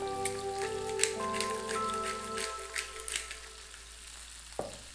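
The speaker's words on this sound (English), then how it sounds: "We will fry the skin for about 2 to 3 minutes until it gets really nice and crispy." Fish fillets fry skin-side down in a hot pan, seasoned with black pepper and salt, for a Thai fish curry with coconut milk, giving a steady, close sizzle with scattered crackling pops and a brief clink near the end.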